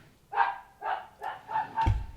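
A dog barks five times in a steady, evenly spaced series, with moderately loud yelps in a quiet indoor room and no talking.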